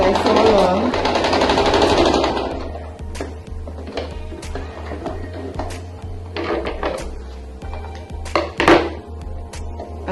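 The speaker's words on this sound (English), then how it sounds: "I remove my pins as I sew along" A sewing machine stitches a face mask made from old shopping bags, first in a fast continuous whir, then in shorter bursts with clicks and small knocks of pins being removed, close and fairly loud.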